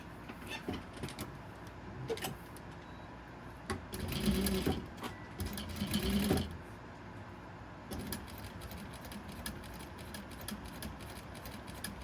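A sewing machine stitching a minky fabric cow stuffed toy, close and moderately loud, with two longer bursts of rapid mechanical whirring among shorter stitching runs and handling clicks, no talking.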